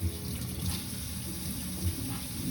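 Tap water runs steadily into a sink while something is rinsed, a continuous close splashing hiss with slight fluctuations and no speech.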